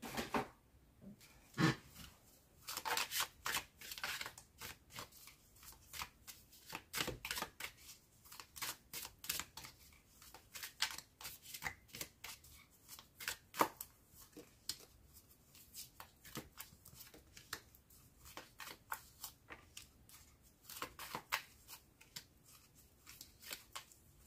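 A deck of cards is shuffled repeatedly for a card reading, a run of quick riffling bursts and soft slaps, close and fairly quiet, with no talking.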